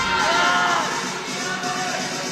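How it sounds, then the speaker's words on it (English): Spectators at an ice climbing competition final in Sunderland, UK, cheer and whoop in a steady, loud wash of crowd noise that holds throughout, with voices mixed in. "I can barely hear from all the cheers"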